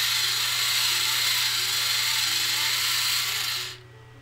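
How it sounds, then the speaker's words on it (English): A battery-powered Derwent pencil sharpener grinds steadily with a strained, low motor hum and a hiss of shaving wood, running alone for several seconds before cutting off sharply. "I'm trying my Derwent battery powered sharpener."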